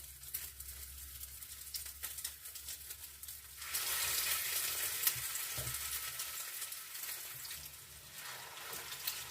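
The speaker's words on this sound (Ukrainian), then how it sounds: "оцим намазкою вниз викладаємо на сковорідку" Potato-topped hot sandwiches fry spread-side down in a heated pan over gas, a steady crackling sizzle that swells louder partway through and continues without talk.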